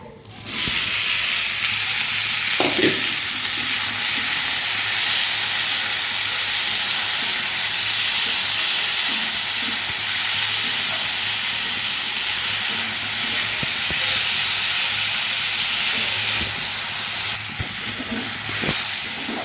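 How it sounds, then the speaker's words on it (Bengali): Kalmi (water spinach) greens frying in a pan with garlic: a continuous, even hiss of sizzling that holds for the whole stretch, with a few faint utensil knocks. "শাকটাকে ভালো করে ভেজে নিয়েছি"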